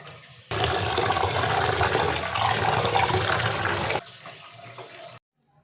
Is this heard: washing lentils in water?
yes